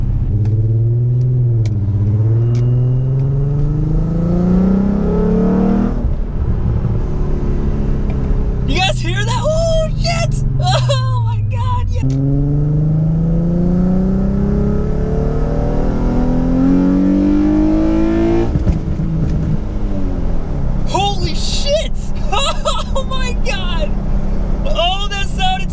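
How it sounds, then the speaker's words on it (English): An Infiniti G35 Coupe running an E85 flame map revs hard at full throttle in repeated rising pulls to redline, a loud close engine howl climbing in pitch, with someone talking between the pulls. "So that was full throttle all the way to what my red line was"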